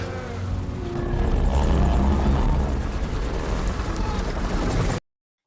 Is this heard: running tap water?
no